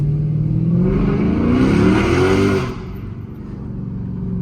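A Chrysler 300 SRT 392 engine revs hard and loud up close, rising in pitch for about two and a half seconds before dropping back to a deep idle rumble.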